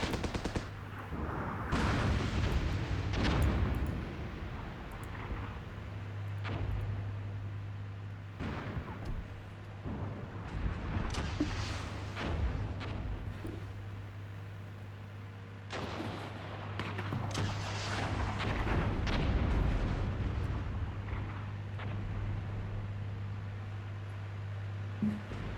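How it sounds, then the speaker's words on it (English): Enemy artillery fire in the video game Armored Brigade II comes as a rolling series of loud blasts and rapid gunfire bursts, clustered in waves with short lulls, over a steady low hum. "Man, that enemy artillery is devastating."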